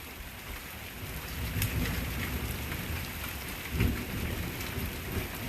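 Steady rain pours down heard from a front porch, a dense even hiss with soft spatter on surfaces and a low rumble swelling briefly mid-way, with no voices.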